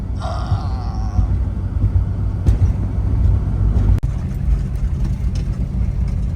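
A 1991 Jeep Cherokee with a 4-cylinder and five-speed, heavily loaded, straining uphill at high revs: a loud, sustained engine drone heard from inside the cab, with one sharp clunk midway.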